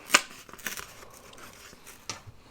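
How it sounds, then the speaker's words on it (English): A journal page being torn out: a sharp tearing rip, then several quieter crinkling and paper-handling sounds and another brief tear near the end, close and fairly soft, with no talking. "Let's go ahead and tear it out and we can look at it."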